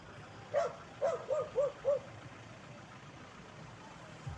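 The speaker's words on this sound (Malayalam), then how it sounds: "വാഗമൺ മൊട്ടക്കുന്നിലും തെരുവ് പട്ടികൾ" A street dog barks about five times in a quick, uneven burst, somewhat distant, at Vagamon Mottakunnu, then the rest is quiet background hum.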